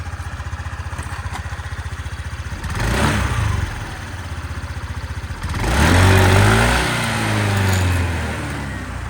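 A Honda Dio 110 JF31 fuel-injected scooter engine idles steadily up close, then is revved twice, each time rising briefly before settling back to an even idle.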